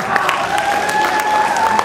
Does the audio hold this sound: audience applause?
yes